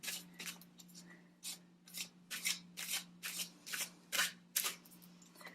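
Tarot cards being shuffled by hand in repeated bursts of papery riffling and rubbing, steady and close, over a faint constant hum with no talking.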